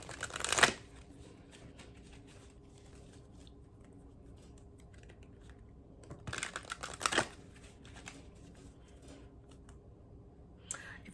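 Sacred Rebel oracle card deck shuffled in three quick bursts: a short riffle at the start, a longer one in the middle and a brief one at the end, with quiet gaps between.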